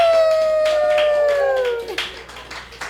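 Dogs howl along with a live music show at a small shop in Horsefly, BC: a long, loud, falling howl with overtones, then fading, uneven yowls over applause-like patter.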